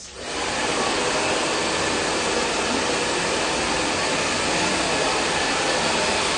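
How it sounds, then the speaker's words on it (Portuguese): A Vertex hair dryer runs steadily while drying hair, a loud continuous whooshing airflow with a motor hum that holds constant from just after the start to the end, with no talking over it. "a gente está fazendo uma live, eu estou secando o cabelo"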